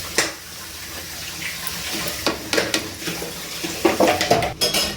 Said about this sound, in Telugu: మనం కొంచెం వాటర్ కూడా వేసుకోవాలి.